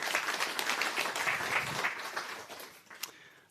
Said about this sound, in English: So give him a warm round of applause.